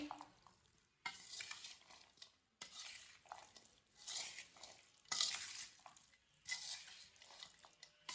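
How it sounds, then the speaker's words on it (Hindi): Chana and lentil chaat being mixed with chaat masala in a bowl, repeated scraping and stirring strokes with soft clinks of a spoon in rhythmic bursts, quiet and close with no talk. "सब चीजों को अच्छी तरह मिक्स कर लेंगे।"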